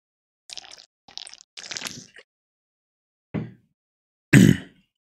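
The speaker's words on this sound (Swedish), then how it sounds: "det som ni hörde i bakgrunden där var jag som drack lite vatten" Someone drinking water, with a few soft sips and gulps followed by two louder swallows or gasps near the end, close and alone with no other sound.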